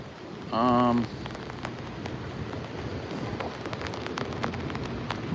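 Heavy rain with large drops falling during convective showers in New York City, a steady dense patter with sharper individual impacts, and a brief tonal beep near the start.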